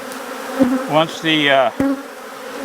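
Africanized honey bees buzzing loudly up close at their hive, a droning hum that rises and wavers in pitch as individual insects fly past.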